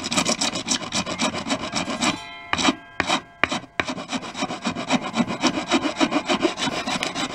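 Rapid rough back-and-forth sanding strokes scraping old glue off the wooden shell of a Slingerland Radio King snare drum, loud and close, with a brief break midway before the rhythmic rasping resumes.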